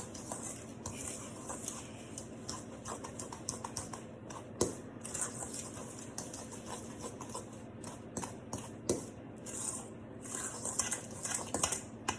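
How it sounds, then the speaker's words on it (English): Vanilla extract being mixed into batter with brown sugar in a bowl, a quiet continuous run of light spoon clicks and scraping against the bowl, close and soft, no speech. "and then your 1 teaspoon of vanilla extract, and you're going to mix that together."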